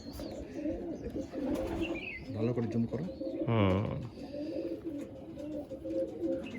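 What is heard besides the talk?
pigeon cooing and fluttering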